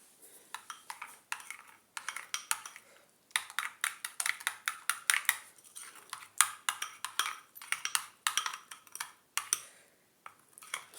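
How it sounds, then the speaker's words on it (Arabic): Herb-infused oil being stirred into a natural hair dye mixture in a bowl makes quick, rhythmic clicking and scraping taps that come in steady bursts with short pauses, close and fairly quiet, with no talking. "خلطوها مزيان حتى يندمج لنا هاد الزيت مع هاد الصباغه"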